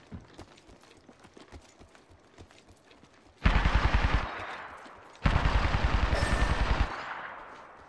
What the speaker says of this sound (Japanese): 敵に撃たれてる。